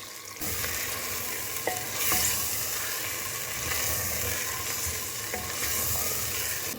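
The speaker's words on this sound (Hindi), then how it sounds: "जब मसाला अच्छे से भुन गया तो फिर मैंने इसमें चिकन शामिल कर दिया।" Chicken pieces fry in spice masala in a pan while being stirred, giving a steady close sizzle with scraping stir sounds running throughout and no talking.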